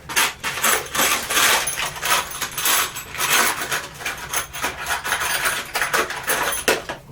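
Hands rummage through a pile of loose metal screws in a workshop while building a saw stand from scrap wood, producing continuous close clinking, rattling and scraping with rhythmic surges.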